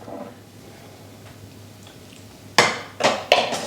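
Quart glass canning jars set onto the metal rack of a NESCO electric canner, three sharp clinking knocks near the end after a quiet hum.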